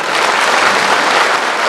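Steady, dense applause from a large audience at a community gathering in Karera, a full crowd clapping loudly and evenly throughout.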